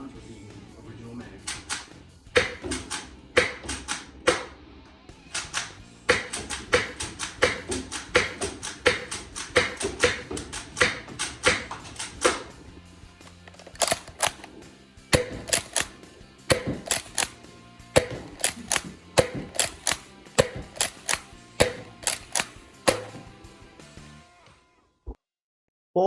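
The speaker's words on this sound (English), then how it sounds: "Now just some miscellaneous firing with random rounds with the original mag." Nerf Rival Mirage foam blaster firing assorted rounds from its original magazine, a long string of sharp close clicks and thumps in uneven bursts with brief pauses.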